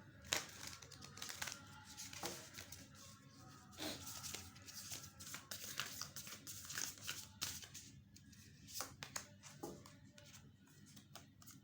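Tarot cards shuffled and handled at close range, a soft continuous crinkle of rubbing and flicking card stock punctuated by sharper snaps as one card is drawn, quiet and steady.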